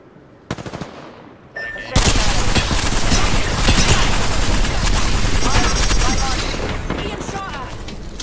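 Rapid, loud automatic gunfire from the Apex Legends video game, with sustained bursts after a few sharp opening shots and faint voices underneath.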